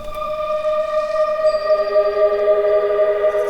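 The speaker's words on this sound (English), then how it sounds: "the real big element of the build up and the intro, which is this pad from Splice" A synth pad sample from Splice drenched in heavy delay opens a track intro, holding steady tones that swell softly and hang in a washy, sustained drone with no one speaking.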